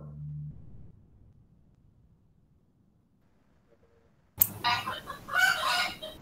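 A rooster crows once, loud and close, after a long quiet stretch, with a faint low rumble at the start.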